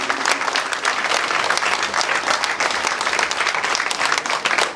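A crowd at a ward election political rally claps loudly and continuously, a thick and unbroken wash of hands lasting nearly five seconds with no talking over it.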